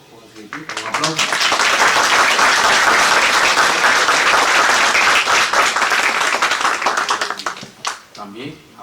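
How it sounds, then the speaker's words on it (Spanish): Applause from an audience at a university law lecture rises quickly, holds loud and full for several seconds, then fades out as a voice begins speaking. "un aplauso"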